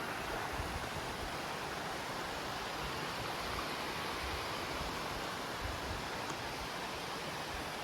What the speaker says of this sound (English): See the creek.